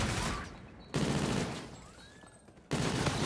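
Rapid gunfire from the Call of Duty Infinite Warfare video game, a dense automatic burst that cuts out abruptly and returns, loud and close against game effects, with no talk.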